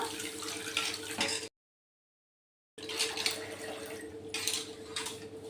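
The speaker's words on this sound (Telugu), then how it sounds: "మొదటిసారి నీళ్ళు పోసి బాగా కడిగేసుకుంటా" Water runs and splashes steadily in a sink or bowl as rice is rinsed, cut off by a short silence before resuming, with soft sloshing and no talk.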